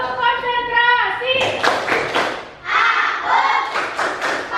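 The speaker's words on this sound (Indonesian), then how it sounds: "Coba kita tepuk konsentrasi." An Indonesian classroom does the tepuk konsentrasi routine, with children chanting loudly in unison and bursts of rhythmic group clapping between the lines. The sound is close and energetic.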